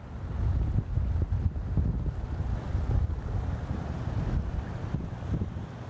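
Strong wind buffets the microphone outdoors during a fly fishing outing near water in Sault Ste. Marie, Ontario, a steady low roar and rumble with gusty swells that continue for the whole stretch, no talk.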